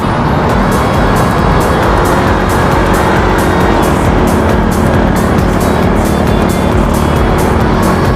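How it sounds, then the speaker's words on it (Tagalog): Heavy road traffic on the C5 extension, with cars and motorcycles passing in a loud, continuous roar of engines and tyres that never lets up. "Dami mga sasakyan."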